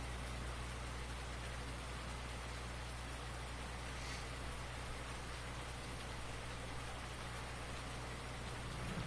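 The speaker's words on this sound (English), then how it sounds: "This rain has pretty much just halted all production." Steady rain pours down in the Farming Simulator 19 video game, a continuous even hiss of drops on surfaces with a low background hum and no voices over it.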